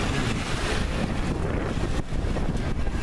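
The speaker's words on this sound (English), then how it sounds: "Wind's picking up. It's blowing 17 knots right now." Strong wind of about 17 knots roars steadily across the microphone on a sailboat underway, a loud continuous rush with water and hull noise beneath it and no voices.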